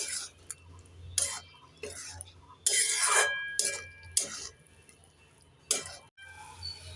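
A spoon clinks and scrapes against a pan while fried soybean chunks are stirred with spices, giving scattered sharp metallic strikes between softer stirring, all close and fairly quiet.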